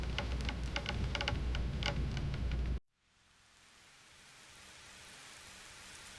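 Steady rain pattering on a surface with sharp drop hits, then a sudden cut to a softer, quieter hiss of rainfall that slowly swells.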